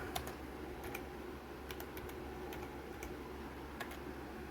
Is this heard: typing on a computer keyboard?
yes